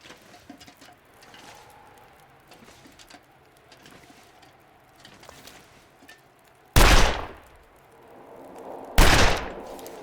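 Two sharp gunshots fired at ptarmigan in the wintry survival game The Long Dark, each a loud booming crack with a short decaying tail, spaced about two seconds apart after a stretch of quiet wind and faint footsteps.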